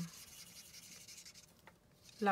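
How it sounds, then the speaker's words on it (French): A felt marker colors on paper with quiet, close scratchy rubbing strokes, faint and brief, while a voice speaks softly nearby. "au lieu de tout le temps colorier du même sens, tournez votre marqueur"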